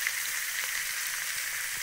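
Green peas and tomato frying with cauliflower in a pan for a mixed vegetable dish, giving a steady, close, even sizzle with no pauses and no voices.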